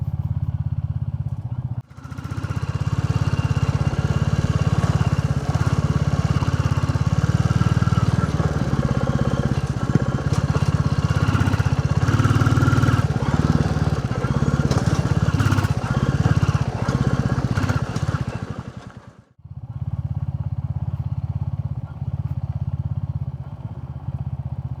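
Royal Enfield Classic 350 motorcycle riding a sandy gravel road, its single-cylinder engine a steady loud drone close by with tire crunch and clatter, dropping off briefly near the start and again near the end.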